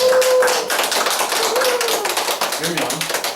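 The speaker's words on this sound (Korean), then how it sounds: "박수로 환영 부탁합니다" Applause from the audience at a Korean award ceremony for International Negotiation Arts Institute members, welcoming the chair of a global green growth organization: dense, steady clapping with a brief tone and voices mixed underneath.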